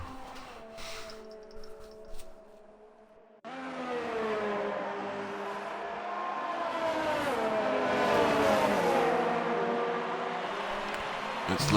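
Race cars at the X2RL Spain round: after a quieter opening a loud, steady engine whine rises and shifts in pitch as cars drive past, with a commentator talking over it throughout.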